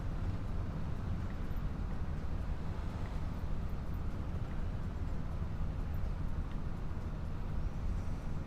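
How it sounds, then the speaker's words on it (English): A tractor engine in Farming Simulator 25 drones as a steady, low, even rumble at moderate level, unchanging and heard alone without talk. "So we're going to put this tractor straight to work."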